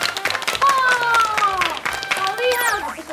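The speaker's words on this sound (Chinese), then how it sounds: "掌声鼓励鼓励" Scattered clapping from an audience at a children's glove puppetry program in Taiwan patters steadily beneath high-pitched voices speaking and calling out over it.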